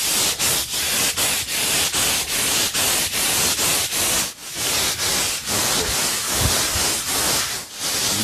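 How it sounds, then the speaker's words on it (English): Steady abrasive hiss of power sanding on a countertop, broken by regular short pauses as the sander is lifted and moved, close and fairly loud with no talking. "I'm just gonna keep sanding and get this all cleaned off."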